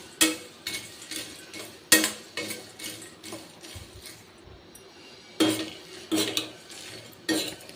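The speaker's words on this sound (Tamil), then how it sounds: "பொட்டுக்கடலையும் போட்டு வறுத்துக்கலாம்." A spatula stirs roasted gram in a pan for protein laddus, producing intermittent metallic scrapes and clinks in short bursts with quiet gaps between.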